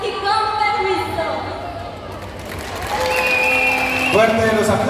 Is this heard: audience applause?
yes